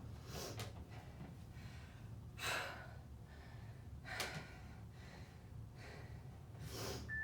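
Heavy, ragged breaths and sharp exhalations from someone doing a lower-body strength and plyometric workout, several loud gasps spaced a couple of seconds apart over a low background.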